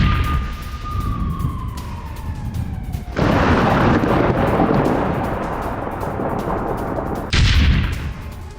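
Heavy bombing explosions around Al-Shifa hospital in Gaza, with loud sudden blasts and long rumbling roars, and a falling siren-like whine before the first blast.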